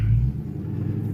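A Dodge Hellcat SRT's engine rumbles at idle, a deep low growl with a brief louder blip at the start, then a steady throaty burble.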